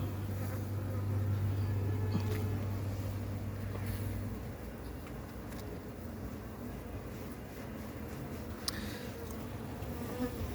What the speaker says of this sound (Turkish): Arı bugün saldırıyor.